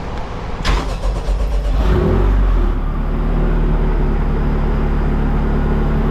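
A Honda K20C1 engine in a sandrail cranks with a sharp click and whir, catches and fires, then settles into a loud, steady close-up idle rumble.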